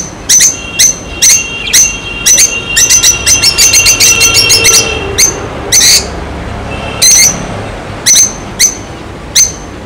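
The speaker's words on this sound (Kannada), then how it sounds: "ಇದರಲ್ಲಿ ನಿಮಗೆ ಆಫ್ರಿಕನ್ ಲವ್ ಬರ್ಡ್ಸ್ ಇದೆ." African lovebirds in a pet shop give loud, shrill chirps in quick repeated bursts, clustered busily at first and then spaced out with short gaps, close by and without talk.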